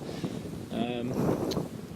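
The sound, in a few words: wind blowing outdoors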